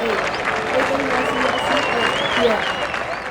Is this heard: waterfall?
no